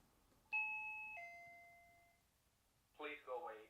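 A SwitchBot 2K video doorbell with a display sounds a clear two-tone ding-dong chime that rings out and fades, followed by a short burst of a voice coming from the unit.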